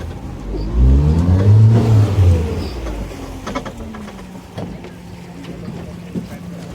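Motorboat engine on a boat ride in Meghalaya, a steady close rumble that swells and revs near the start and then settles into a quieter, even drone over wind and water.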